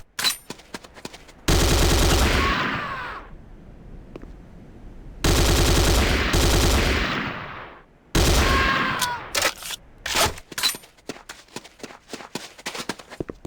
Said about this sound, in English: The next weapon is the Corbretti AR-70 Raptor automatic rifle.